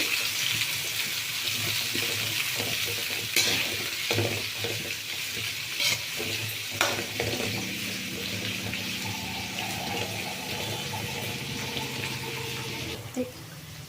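Mint and curry leaves fry in oil with a strong, close sizzle. Stirring scrapes and clinks run through it, along with some running-water sounds, and a faint voice is heard briefly.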